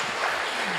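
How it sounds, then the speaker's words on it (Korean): An audience at a Korean university semester-opening retreat lecture gives a brief burst of applause, a short dense wash of clapping heard from within the hall. "박수."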